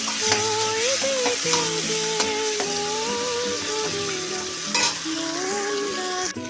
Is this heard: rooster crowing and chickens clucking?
no